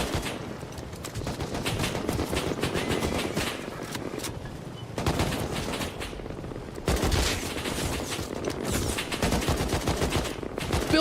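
Dense video game gunfire during a battle royale match, rapid overlapping automatic bursts and single shots crackling continuously with a few short gaps, loud and close.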